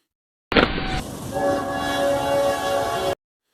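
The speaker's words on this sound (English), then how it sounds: "Snow explodes outward as a train plows forward, blasting nearby buildings with frozen spray." A train's loud horn blares with sustained harmonic tones over a rushing, roaring rumble as it plows through snow, starting abruptly and holding steady for a few seconds before cutting off.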